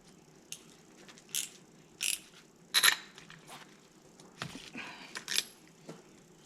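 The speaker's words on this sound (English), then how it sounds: "Hear that torque wrench? We're torqued." Torque wrench tightening a spark plug on a boat motor, a faint series of short ratcheting clicks in irregular bursts, heard close against a quiet background.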